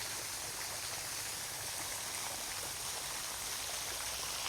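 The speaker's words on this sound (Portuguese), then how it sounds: "A água tá saindo da árvore ali." Water pours steadily from a tree into a reservoir, a constant rushing splash with broad hiss and no pauses, fairly close and alone.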